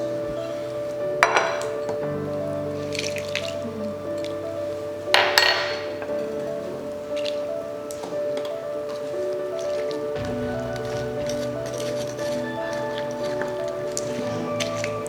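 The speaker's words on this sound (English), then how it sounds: "Just put all the vegetables into the pan except bok choy and green onions and cucumbers." Vegetables go into a pan of Korean jjimdak (braised chicken) with two sharp clattering impacts and a steady bubbling simmer underneath, fairly close and unvoiced.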